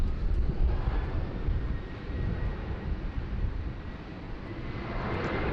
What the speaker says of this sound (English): All right, clear for takeoff. And off she goes, off to Tassie,